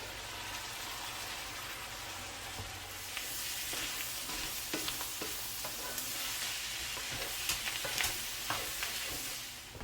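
Vegetables sizzle steadily in a pan, a soft continuous hiss with scattered pops and stirring clicks, close but fairly quiet, with no talking.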